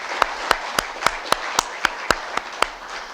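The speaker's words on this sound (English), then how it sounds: "Please join me in giving a big round of applause to our panel members today" Sparse clapping at the close of a policy data panel session: about a dozen sharp, evenly spaced claps in a steady rhythm over low room noise, sounding like just a few hands rather than a full crowd.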